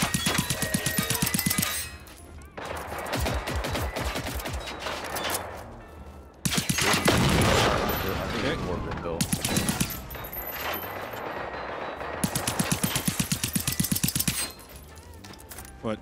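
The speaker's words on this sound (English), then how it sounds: "Stop shooting me." Bursts of gunfire from the video game Generation Zero, rapid shots in sustained volleys loud and close, with gaps between them and people talking in places.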